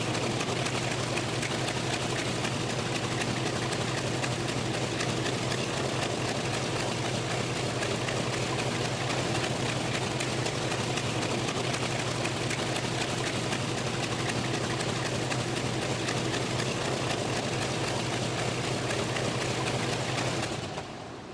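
An A-1 Skyraider aircraft engine runs during an engine test, a loud, continuous, unbroken roar with a deep steady drone that holds for about twenty seconds before cutting off abruptly.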